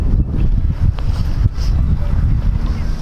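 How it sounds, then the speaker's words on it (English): Wind blowing straight in at a fishing venue during a feeder match final, a loud, steady buffeting roar across the microphone with low rumbling gusts throughout and no talk. "He's got the wind blowing straight in."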